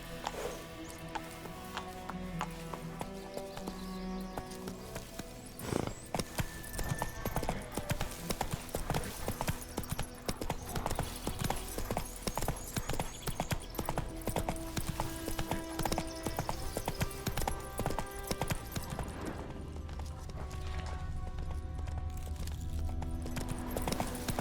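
Roach, the horse in The Witcher 3: Wild Hunt, gallops with fast, steady hoofbeats that keep a rolling rhythm and change pace near the end over a dense layer of game sound.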